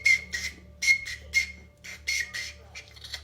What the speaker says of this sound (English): got a nice little whistle for Christmas from his daycare provider